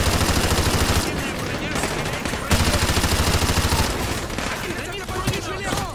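Gunfire from Call of Duty: Modern Warfare Remastered, sustained automatic bursts crackling in dense, loud volleys with a brief lull, mixed with game noise throughout.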